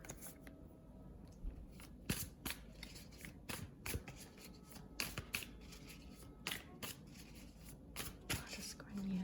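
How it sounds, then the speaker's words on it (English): Tarot cards are shuffled by hand in repeated soft riffles and slaps at an uneven rhythm, close and quiet, with a voice speaking over them. "I'm gonna pull some tarot cards just to clarify a little bit further"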